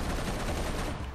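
Rapid minigun fire in the video game Serious Sam 3 BFE, a dense, continuous rattling burst that stays loud and steady throughout.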